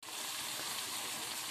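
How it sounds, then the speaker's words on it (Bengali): Meat is sautéed in a pan in a home kitchen, giving a steady, even hiss of sizzling that runs without a break. "আমি এখন মাংসটা একটু ভালো করে কষাইতেছি"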